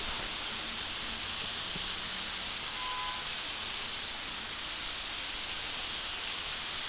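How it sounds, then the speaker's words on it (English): Chicken fajitas hiss and sizzle steadily on a hot surface inside an Ooni Koda 16 oven as they are stirred, a loud, broad frying noise with a few faint scraping clicks. "I'm going to just stir these around a little bit."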